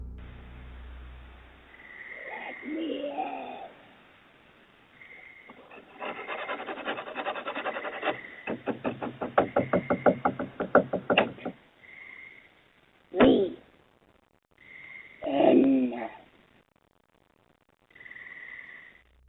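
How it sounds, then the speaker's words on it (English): Scratching and knocking on a house's back door, with rasping rubs and a few sharp knocks spread across the stretch, close and fairly loud, alongside a low eerie voice. "The person repeats the words, "Let me in," as they scratch and knock on the back door."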